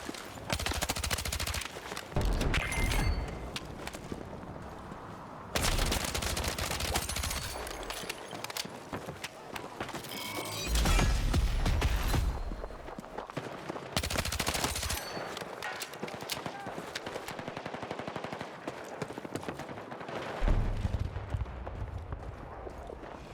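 Battlefield 6 video game combat: repeated loud bursts of automatic gunfire, some long and rapid, others short and sharp, broken by quieter stretches of softer battle noise.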